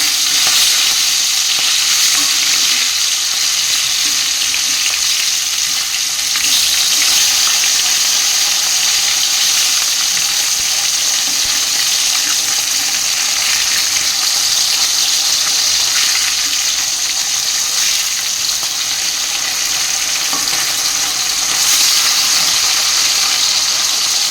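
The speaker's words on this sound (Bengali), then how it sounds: "এখন এই যে আলু ভাজা বসিয়ে দিয়েছি" Potatoes fry in a pan for a fish curry, giving a loud, continuous close-up sizzle that stays steady and unbroken for the whole stretch, with no talking.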